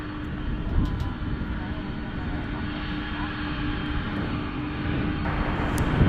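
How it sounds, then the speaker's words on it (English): Boeing 787 Dreamliner jet airliner arriving from Chicago at Dallas Fort Worth International Airport, a steady distant engine roar that slowly swells louder toward the end, with a voice talking over it. "here comes the Dreamliner right now"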